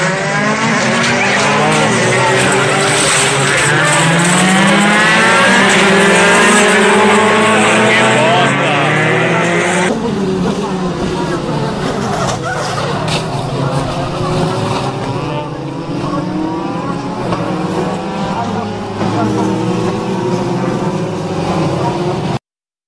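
Race cars in a 2016 circuit race, around the moment of a crash, roar loudly with several overlapping engine notes rising and falling through gear changes, dense and continuous; the engine tone thins slightly about halfway through.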